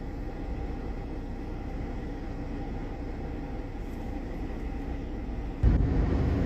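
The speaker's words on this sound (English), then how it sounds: "The train stopped right in the middle of the road, so we had to U-turn and get away from there." A stopped train sits across a road at a railroad crossing, giving a steady low rumble and hum heard from nearby inside a vehicle, with a sudden louder thump near the end.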